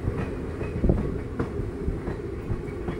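A passenger train on the Guruvayur to Madurai route runs on rails through rain near Ottakkal station, a continuous loud rumble with rhythmic wheel clatter heard from on board.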